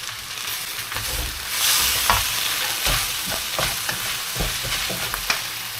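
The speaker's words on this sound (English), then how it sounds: "Add in some more extra sauce here." Beef and mushroom fried rice with sauce being stir-fried in a hot pan, a steady loud sizzle with scraping and clattering stirring strokes throughout, no voices.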